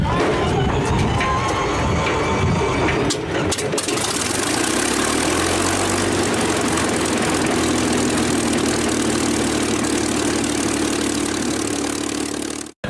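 A P-51B Mustang warbird's piston engine cranks with a few sputtering pops, catches and settles into a loud, steady, throbbing idle that runs continuously, close by with no talk over it.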